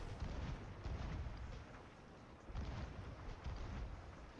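Cannon fire in a video game comes as deep, rumbling booms that swell and overlap in repeated waves, loud and heavy, with no voices over them.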